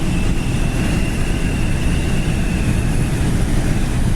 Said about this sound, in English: We do have a little bit of wind noise from that wing window area